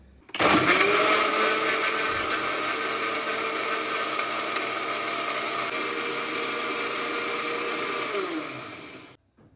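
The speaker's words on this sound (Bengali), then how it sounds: "এখন হচ্ছে আমি এগুলো একটু ব্লেন্ডার করে নেব" An electric blender whirs loudly and steadily for about nine seconds, churning yogurt, ice and cold water into lassi, then winds down and stops.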